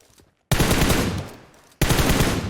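Loud automatic gunfire from the mobile battle royale game PUBG Mobile: a sustained burst that fades slightly, a short break, then a second loud burst, with no talking over it.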